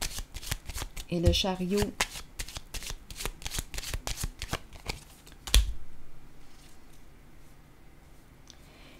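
Tarot cards are shuffled and handled in a quick run of crisp flicks and slaps for several seconds, ending in one sharp snap before quieter stillness, while a voice speaks briefly over the handling.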